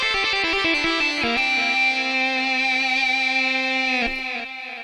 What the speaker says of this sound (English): So that's our fake lead mono solo guitar sound there.